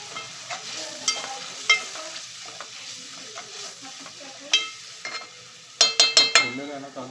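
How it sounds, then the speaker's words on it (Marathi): Green masala paste frying in oil for chicken biryani sizzles while being stirred, with spoon scrapes and clinks against the pan, ending in a quick run of sharp metallic taps, close and without talk. "असं हे वाटण छान असं आपण मिक्स करून घ्यायचं"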